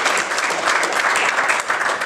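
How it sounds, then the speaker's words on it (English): A church congregation during a Sunday sermon claps together in a dense, steady burst of applause, fairly loud and close, with no speech over it. "Somebody thank God with a clap offering this morning."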